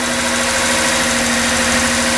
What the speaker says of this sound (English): It's at a high idle right now since we just started it up after resetting the battery.